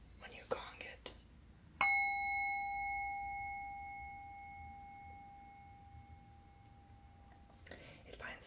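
A cracked ceramic teacup gives off a sustained, pure ringing tone that starts suddenly with a strike and fades slowly over several seconds, like a singing bowl, with soft whispering before and after.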